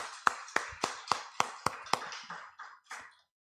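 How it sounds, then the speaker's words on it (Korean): Church congregation claps in unison during a Sunday service at Phnom Penh First Church, about ten evenly spaced claps that fade slightly toward the end, with no voices. "박수 한번 하겠습니다."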